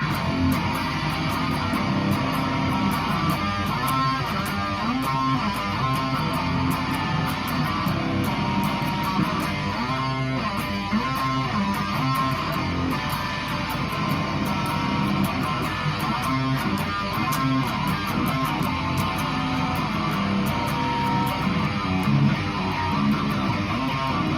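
A guitar plays a steady, full-sounding chorus riff from a song, loud and continuous with a driving rhythm, no voices present.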